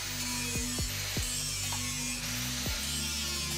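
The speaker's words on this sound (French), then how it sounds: "C'est au tour des meules d'animer la serre." Grinding wheels run on a knife maker's workshop machines in a greenhouse, giving a steady loud whirring hiss with a low hum and several brief dropping pitch sweeps throughout.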